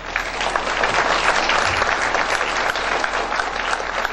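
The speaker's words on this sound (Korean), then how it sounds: "조갑재 대표님께 다시 한번 큰 박수 부탁드립니다" A lecture audience at a university forum gives the guest speaker a hearty round of applause: dense, lively clapping that fills the whole four seconds without any talking.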